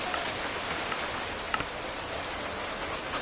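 Rain falling in Minecraft, a steady, even hiss of drops with faint scattered ticks, soft and continuous throughout.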